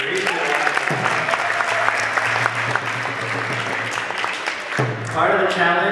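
A crowd at a talk breaks into loud, sustained applause for the speaker Girish, with clapping filling most of the stretch and a voice speaking over it toward the end.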